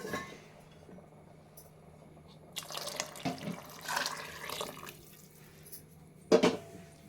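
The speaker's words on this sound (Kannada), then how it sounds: "ಬಿಸಿನೀರು ಆ್ಯಡ್ ಮಾಡ್ಕೋಬೇಕು." Hot water poured into a pot of avarekalu curry. Quiet at first, then a splashing pour for a couple of seconds, followed by a louder clatter and splash near the end, with no talk.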